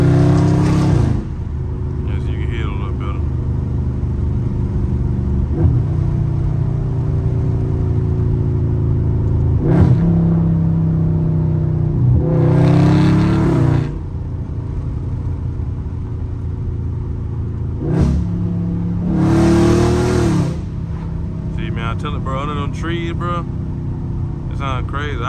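A Dodge Charger Scat Pack's engine drones and swells from inside the cabin while drifting, a steady loud rumble with a few surging revs, under a voice talking throughout.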